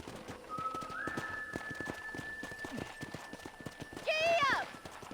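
Horse hooves in the video game Red Dead Redemption clip-clop in a steady, close rhythm for the whole stretch. A long whistle sounds over them, and a horse whinnies loudly near the end.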